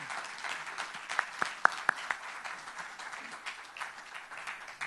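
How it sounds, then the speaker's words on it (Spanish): An audience at a lecture-style session applauds, a modest patter of clapping with a few sharper nearby claps standing out, thinning toward the end. "un fuerte aplauso para Marcela."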